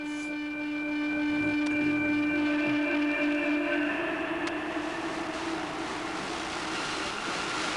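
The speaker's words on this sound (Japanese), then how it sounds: "一番列車がトンネルへ入るところでございます。" The first train of the day enters the Seikan Tunnel in March 1988, rumbling and humming with a steady tonal drone, the sound growing broader and hissier as it continues, close and fairly loud.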